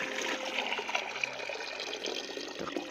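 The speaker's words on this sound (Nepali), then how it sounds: "अब यहाँनिर चाहिँ पानी हाल्ने हो" Water pouring steadily close by, a continuous splashing trickle with no talk over it.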